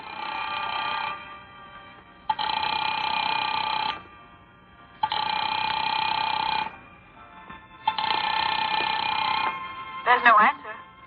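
Telephone bell ringing unanswered in an apartment: four evenly spaced long rings with silent gaps between them, clear and close, followed by a brief clatter.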